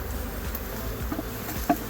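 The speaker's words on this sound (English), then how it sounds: "shake off any extra bees on the lid, make sure the queen's not on" Honey bees buzzing around an opened hive in Central Florida in a steady, low drone close by, many insects humming together, with a soft tap near the end.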